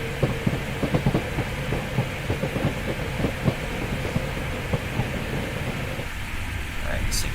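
A train pulls out of Zwolle in the Train Sim World 5 simulator, with steady wheel-on-rail rumble and a regular clatter of rail joints, and a voice talks over it.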